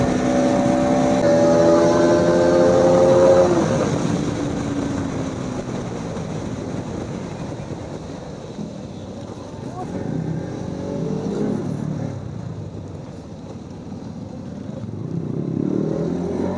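Motorcycles race and pull wheelies during a Sundarban group ride, engines revving loudly up close before fading and rising again as bikes pass, with voices in the background.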